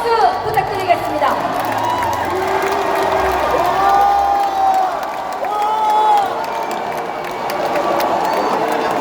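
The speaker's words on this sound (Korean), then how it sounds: "뜨거운 박수 부탁드리겠습니다" A crowd at a Democratic Party convention in Jeollabuk-do claps and cheers, with shouts and whoops rising over steady applause and voices audible in the mix.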